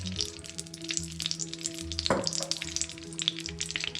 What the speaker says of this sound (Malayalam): അതിനായി ഇതിലേക്ക് 2 സ്പൂൺ നെയ്യ് ഒഴിച്ചു കൊടുക്കാം